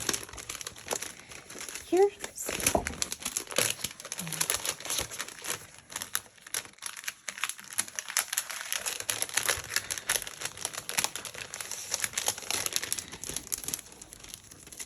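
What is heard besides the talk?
crinkling masking paper being handled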